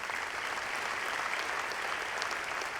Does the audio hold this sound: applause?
yes